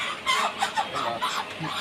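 Chickens and roosters at a busy poultry market cluck in short, close, repeated bursts against steady crowd bustle.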